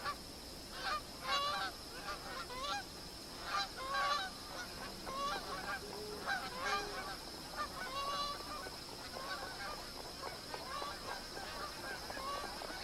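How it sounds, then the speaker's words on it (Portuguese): Magpie geese gathering at a billabong on an alluvial floodplain, honking repeatedly in overlapping bursts from a sizeable flock at moderate distance, over steady insect-like hiss and ambient background. "Os gansos malhados abandonaram o capinzal ressequido da planície aluvial e começam a se juntar no"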